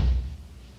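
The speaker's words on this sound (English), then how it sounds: "That's me hitting the floor a little harder" One dull, low thud of a heel striking the floor, moderately firm, then a short fading tail, sampled for a keyboard.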